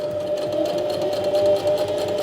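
A sewing machine stitches a small coin purse at a 3mm stitch length, a steady close whirring hum running without pause.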